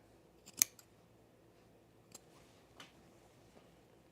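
A single crisp snip of scissors through the fabric of a pre-quilted jacket, followed by a few faint clicks and light handling sounds in a quiet room.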